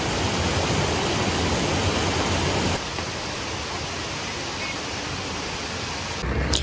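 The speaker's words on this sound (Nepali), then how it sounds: "जहाँबाट चाहिँ पानी एकदमै सलललल बगेको छ" Near a bridge at a water source on a hiking trail close to Kathmandu, stream water rushes steadily in a loud, broadband wash that drops slightly in level partway through, with no voices.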